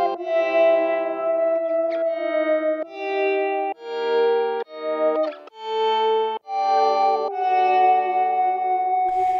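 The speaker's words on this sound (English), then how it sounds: "this starts harmonizing with another guitar that has a bunch of reverb and delay on it here" Electric guitar run through an attack delay pedal with heavy reverb and delay, a second guitar harmonizing against it; sustained, swelling chordal notes shift in steady steps, washed in echo and distortion, loud and continuous with no voices.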